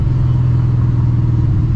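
A Ford Mustang GT engine rumbles loud and close in a deep, steady drone, heard alone with no voices.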